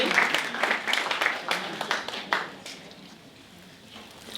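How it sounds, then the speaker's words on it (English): Audience at a Dragons' Den style pitching event claps, sharp individual claps at first that thin out and fade to near quiet. "please do give them a round of applause as they come forward"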